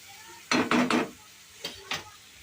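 Mutton pieces sautéed in hot oil in a pan, a few quick scraping stirs in a burst followed by two lighter scrapes, close and alone over a faint background.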